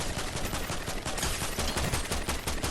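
Rapid, continuous automatic gunfire in a Fortnite battle, dense bursts of loud cracking shots firing almost without pause across the whole stretch.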